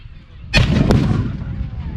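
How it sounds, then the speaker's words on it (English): A tank gun fires a single huge shot at a military vehicle display show, a sudden loud blast followed by a rumbling echo that decays slowly outdoors. "Another one. Huge shot."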